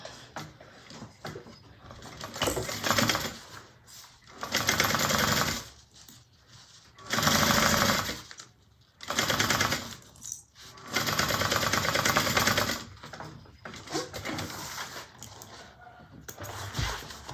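A domestic sewing machine bastes a zipper onto a fabric bag, running in several loud bursts of rapid stitching separated by short pauses and quieter handling noises.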